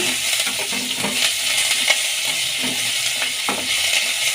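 Steady sizzling of cumin, Byadagi chillies and greens frying in a hot pan, with occasional stirring scrapes and light clinks throughout.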